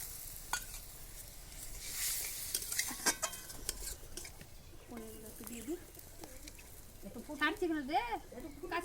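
Paneer and poppy seed curry stirred in a pot on a clay stove, with soft scraping and a faint sizzle, while a voice and birdsong run alongside the cooking.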